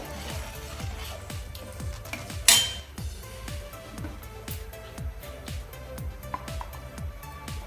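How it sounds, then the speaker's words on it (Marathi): Spicy prawn biryani rice being stirred in a pot over a high flame, with a steady run of soft scraping and clinking of a spoon against the pot and one sharper metallic knock. "आता मी पुन्हा हाय फ्लेमवरती करून घेते आणि व्यवस्थित हे मिसळून घेऊया"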